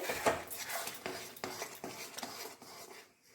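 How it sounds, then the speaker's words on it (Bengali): A spoon stirring and scraping paneer and chili halwa in a pan over medium heat, with repeated soft metallic scrapes and clinks in an uneven rhythm, close and quiet. "এবারে আমি পনির দিচ্ছি, আরও 10 মিনিট নাড়াচাড়া করে নেব।"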